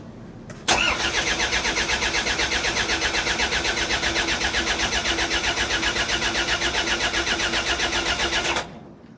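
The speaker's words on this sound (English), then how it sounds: "we just turned the engine over after that belt change" A boat engine cranks over steadily for about eight seconds without catching after a belt change, a fast rhythmic chugging of the starter that starts abruptly and cuts off.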